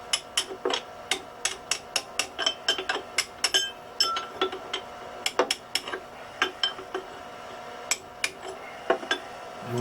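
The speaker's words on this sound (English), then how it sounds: "Notice it's not a giant hammer, it's a small beater." Small beater hammer tapping on a salt-crusted boat shaft flange during shaft packing removal, dozens of quick, close, sharp metallic taps in uneven bursts, ringing lightly with no talk.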